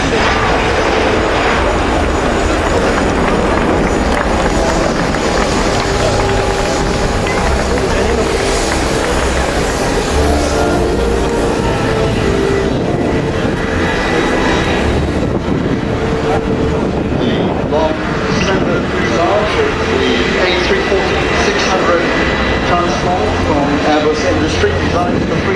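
An Airbus A340-600 jet airliner flies past with a loud, steady engine roar that holds for the whole stretch, while a commentator speaks over it.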